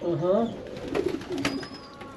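Racing pigeons coo in a loft, a soft warbling call near the start, then faint cooing and rustling continue beneath people talking.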